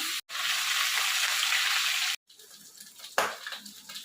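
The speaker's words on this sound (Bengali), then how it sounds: "আর এখন আমি ডালটা সোমবারে দিয়ে দিচ্ছি।" Cooked lentils (dal) poured into a hot tempering give a loud, rushing sizzle that cuts off abruptly, followed by quieter bubbling and a second short burst of hissing.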